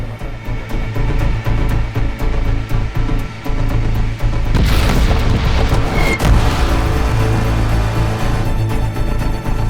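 Heavy booming cannon shots of a T-34 tank as film visual-effects sound, a loud sustained blast midway with dense rumbling explosions and crashes throughout.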